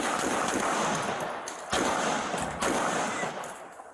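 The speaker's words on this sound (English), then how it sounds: "Those 5 shots were fired by APD officer Daniel Sanchez" Police officer's handgun fired at night during a confrontation: several loud, sharp shots cut through heavy, constant background noise.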